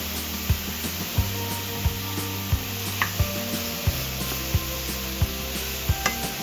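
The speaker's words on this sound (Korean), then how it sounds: "마늘향이 올라오면 찢어둔 버섯을 넣고" Torn mushrooms stir-frying with minced garlic in olive oil in a preheated pan over medium-low heat, a continuous sizzle broken by regular knocking scrapes of a utensil against the pan, close and loud, no talking.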